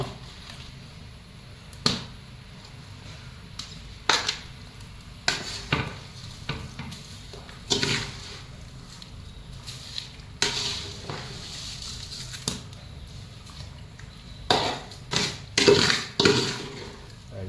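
Pot and utensil clatter with scattered stirring scrapes and clinks as rice is added to a pot of boiling water and stirred for beef biryani, several sharper knocks near the end over a low steady background.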